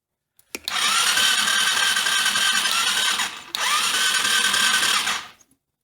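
An engine cranking over on a weak battery: two loud, sustained whirring bursts of the starter, the first about three seconds and the second about two, split by a brief pause, with no talk.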